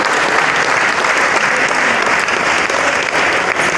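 Audience at a prayer conference applauding loudly, a dense and continuous roar of clapping that stays at full strength throughout.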